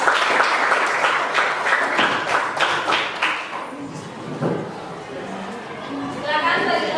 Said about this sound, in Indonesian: Jadi kita aplaus dulu untuk kelompok 3